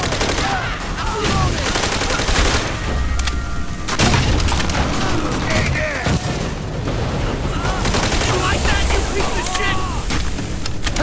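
Loud, dense machine gun bursts and rifle fire rattle through a battle in Call of Duty: World at War, with booming impacts and splintering debris while soldiers shout over the continuous gunfire.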